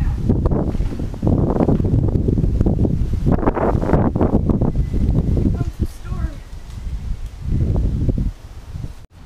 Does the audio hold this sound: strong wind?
yes